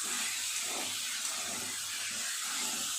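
Potato, pointed gourd and pumpkin with sugar sautéing in a pan for a vegetarian chhokka, a steady soft sizzle and hiss running evenly throughout.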